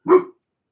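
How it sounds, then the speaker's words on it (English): A dog gives a single short, sharp bark, close and loud, then silence. "That's my dog."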